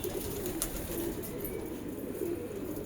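Pigeons coo softly in a loft, a few low, rolling coos spaced apart over a constant background hiss, with occasional faint rustles and no speech.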